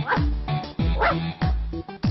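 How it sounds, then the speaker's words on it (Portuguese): Pet dog, named Luke, barking in a home: four short bursts of close, loud woofs and yips spaced evenly, each sliding downward, with no talking. "o meu cachorro"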